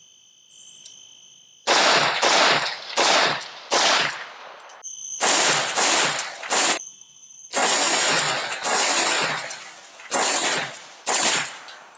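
An AK-47 rifle fitted with a closed-ended muzzle brake fires loud, sharp shots outdoors in quick bursts of two to four with pauses between, while insects chirp steadily in the background.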